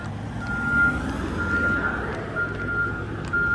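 A yard jockey truck shuttling trailers around a freight yard emits steady, evenly spaced reversing beeps over a low diesel engine rumble, heard from a moderate distance with no talking.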